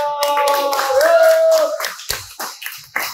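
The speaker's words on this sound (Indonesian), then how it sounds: "Tepuk tangan dulu." Hand clapping on a talk show set, starting under a sustained voice and then breaking into a few distinct, irregular claps that die away.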